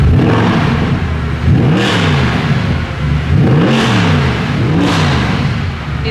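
A naturally aspirated Mercedes engine warming up growls loudly at close range. Three quick throttle blips rise and fall over a constant idle rumble.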